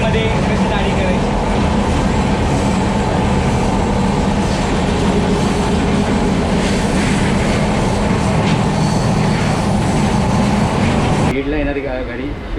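A passenger train running on rails toward Sindhudurg, a loud continuous rumble and rattle of wheels and carriages heard from inside, steady throughout before a brief quieter tail.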